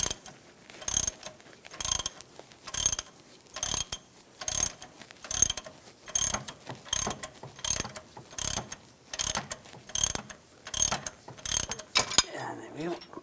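A ratcheting puller tool works a crankshaft pulley off a 2007-2014 Cadillac Escalade 6.2L V8, giving a steady series of about a dozen sharp clicking ratchet strokes close up, with no talk.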